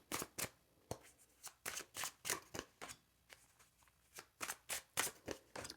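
A deck of tarot cards is shuffled up close, giving a quiet run of crisp riffling bursts in an uneven rhythm with short pauses between them.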